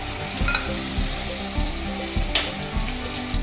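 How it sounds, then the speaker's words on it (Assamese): Raw mango pieces fry in hot oil with turmeric, a close, steady sizzle broken by regular low knocks and scrapes of stirring, with no talking. "আটাইখিনি আমৰ টুকুৰা মই তেলত দি দিম"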